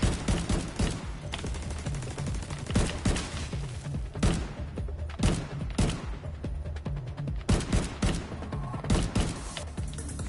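Sustained turret gunfire in The Division 2 video game, dense rapid bursts of shots with heavy thumping impacts, loud and continuous throughout without speech.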